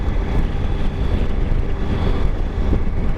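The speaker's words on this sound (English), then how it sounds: "I can give it some gas and it just pulls." A 2016 Suzuki V-Strom 1000 motorcycle in fourth gear below 3,000 RPM pulls under throttle, its engine a steady, loud low rumble mixed with heavy wind buffeting throughout.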